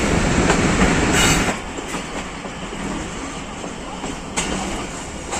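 The Kohat Express passenger train runs on the rails near Jand Junction in Pakistan, its wheels rumbling and clacking steadily, heard from on board, loud and continuous with rhythmic clicks and a brief screech.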